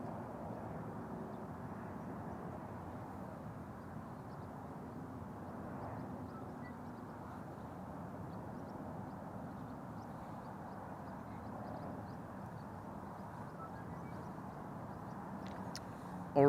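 A KLM Embraer 195-E2 airliner arriving at Amsterdam Schiphol makes a steady, distant jet roar that holds even for the whole stretch, with a brief louder burst right at the end.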